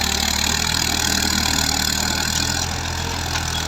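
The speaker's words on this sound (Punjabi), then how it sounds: "ਦੇਖੋ ਨਾ ਟਰੈਕਟਰ ਬੈਠ ਜਾਂਦਾ ਮੋੜ ਤੇ" A Ghazi 65 hp tractor engine runs in an onion field in rural Punjab, Pakistan, giving a steady, close, continuous low rumble that holds even throughout with no talk over it.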